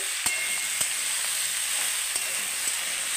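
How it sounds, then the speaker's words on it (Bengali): Pumpkin chechki fries in a pan with a steady bright sizzle, and a few sharp scrapes from a spatula stirring it break through at intervals. No voices are heard. "এই যে আমি নেড়ে দিচ্ছি, দেখুন আমি কিন্তু মাঝে মাঝে নেড়ে দিচ্ছি"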